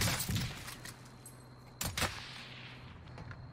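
Several sharp gunshot cracks burst out in the video game Warzone, a quick cluster at the start and another pair near the middle, with a faint hum between them.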